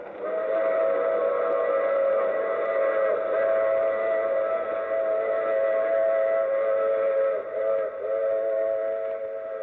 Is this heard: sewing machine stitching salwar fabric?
no